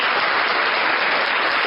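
A church congregation applauds steadily during a Bible reading, dense continuous clapping at even loudness throughout.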